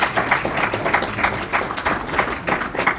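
A church congregation claps in a quick rhythmic pattern, with bursts of hand claps repeating roughly every half second over a low room murmur.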